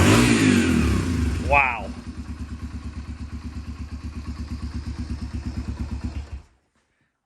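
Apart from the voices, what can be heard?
60-year-old Cushman motorcycle cold starting and running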